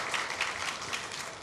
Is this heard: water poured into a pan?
no